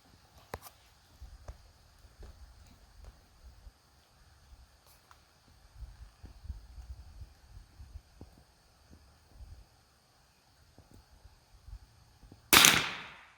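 A .22 bolt-action rifle fires once at a milk jug outdoors, a single sharp crack near the end after quiet stretches of faint handling, shuffling and light wind.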